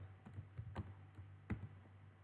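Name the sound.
typing on a computer keyboard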